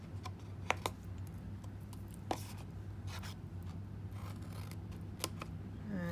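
Scissors snipping miter cuts into card stock up to a score line while making a stamped treat box, giving sparse, quiet individual snips over a steady low hum.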